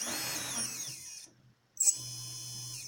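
A Multistar Elite 2306 2150Kv brushless motor spins with a high steady whine, cuts out briefly to near silence, then starts again with a sharp burst before settling back to its even hum.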